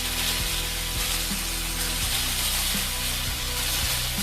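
Okra sautéing with curry leaves in an oil pan for a Kerala-style vendakka mappas, giving a steady close sizzle with a few soft stirring knocks underneath.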